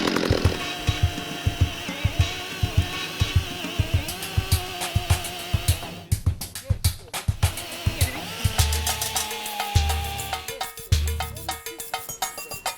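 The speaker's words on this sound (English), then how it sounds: "We cleared it with a bit of winch action, a bit of chainsaw action" Chainsaw engine revving and bogging in repeated bursts as it cuts through a fallen log across a track in the Victorian High Country, loud and close with clattering knocks between cuts.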